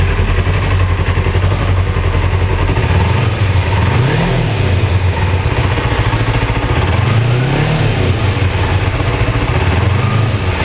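A 2007 Kawasaki Ninja 250 starter motorcycle runs loud and close, its engine droning steadily with several smooth rising-and-falling revs across the stretch.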